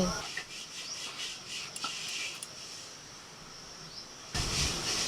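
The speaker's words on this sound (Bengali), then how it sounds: "হাড়িতেই মাংস হবে একদম ঘষে পরিষ্কার করে নিচ্ছি নাহলে বালি বালি মতো উঠবে" A clay cooking pot is scrubbed clean by hand, close steady gritty rubbing strokes in a continuous rhythm for several seconds.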